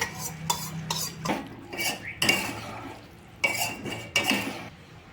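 Cooked toor dal stirred into a ridge gourd curry in a pot, a series of close metal scrapes and clinks from a spoon against the pot in irregular bursts, with a faint sizzle underneath.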